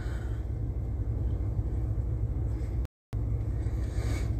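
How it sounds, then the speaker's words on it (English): Steady low hum and rumble from an air conditioner in a parked van fills the background, continuous and even apart from a brief total dropout near the end. "The noise you're hearing in the background is probably my AC in my van right now."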